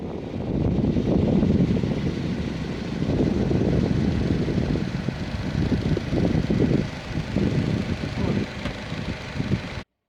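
During a sea trial under power with no wind, a sailboat's inboard engine drones at maximum cruising RPM. The rough, steady mechanical rumble stays close and fairly loud, with some wind or water wash mixed in, then cuts off abruptly at the end.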